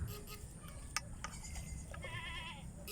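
Several goats bleat at different pitches over a steady rural riverside background hum, some calls short and others drawn out, moderately close.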